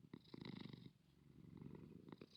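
Cat purring in the Minecraft video game, a soft rhythmic rumbling purr in two close bursts with a brief lull between them.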